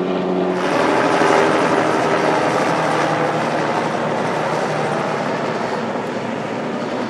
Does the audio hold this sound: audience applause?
no